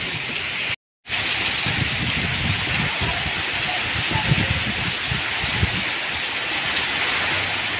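Heavy monsoon rain pours down steadily in a dense, continuous roar with close spattering drops, broken by one brief gap of silence near the start.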